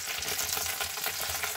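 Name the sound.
chicken legs frying in a pan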